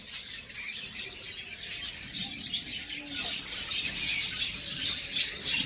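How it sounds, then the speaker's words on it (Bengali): Many small birds of various kinds chirp and tweet continuously in a busy, overlapping chorus in a mini zoo aviary, bright and close, with light rustling in the background. "এই দেখুন কত ছোট্ট ছোট্ট পাখি, বিভিন্ন রকমের পাখি।"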